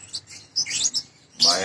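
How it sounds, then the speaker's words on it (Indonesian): A pet bird chirps in a home, giving several quick, bright tweets and a louder burst of calls close by, with no talking. "Oh, punya burung juga ini ya Mas?"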